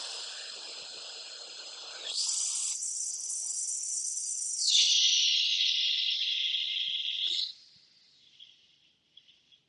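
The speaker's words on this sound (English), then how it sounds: "When I push every last ounce of air out of my lungs using that shushing sound" Forceful shushing exhale pushed out through the mouth during an ab-strengthening breathing exercise, a steady hissing breath that swells louder midway, then cuts off and trails into faint breathy puffs.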